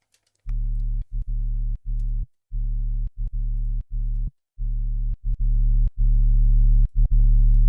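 A synthesizer bass tone with an accentuated harmonic plays in short repeated pulses separated by brief gaps, a clean, steady, low electronic buzz with no talking.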